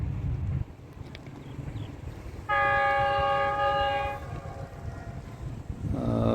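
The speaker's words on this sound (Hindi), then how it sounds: "तो इस टाइम नाला डैक के ब्रिज के ऊपर से गुजरने वाली है 8 डॉन तेज़गाम एक्सप्रेस।" The 8 Down Tezgam Express roars over the Nala Dek bridge at speed, its loud rumble broken by a sustained, strongly pitched whistle blast lasting about a second and a half, with a second blast starting at the end.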